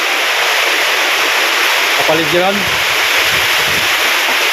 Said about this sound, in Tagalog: lakas pa rin ng ulan, hangin.